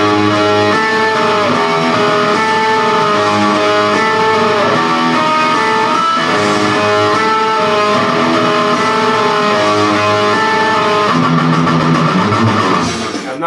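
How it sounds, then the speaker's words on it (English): An electric guitar plays the intro of a song over the backing track, with palm-muted riffing buried in a dense, loud, continuous wall of distorted metal, and no voices. "So playing the second part of the intro along with the track will sound like this."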